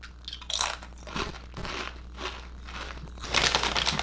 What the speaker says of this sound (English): Listen to the crunch on this.